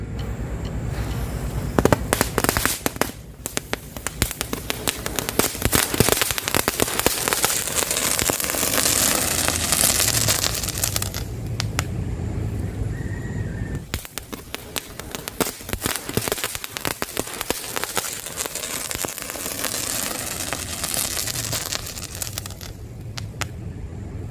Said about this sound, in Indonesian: selanjutnya kita cobain air mancur 5 warna 1 pak